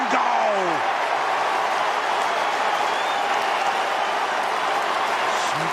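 Stadium crowd at an AFL preliminary final between Greater Western Sydney and the Western Bulldogs roars after a goal, a loud, sustained wall of cheering and applause that holds steady throughout with no break.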